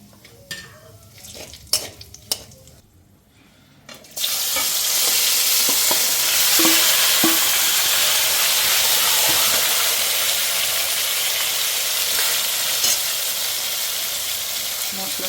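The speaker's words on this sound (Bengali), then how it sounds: "এটা আমি ফোড়নে দিয়ে দেবো" Whole spices for tempering hit hot oil: dried red chillies, bay leaf, cinnamon, cloves, green and black cardamom and mace. A few light knocks come first, then a sudden loud, steady sizzle takes over and carries on to the end.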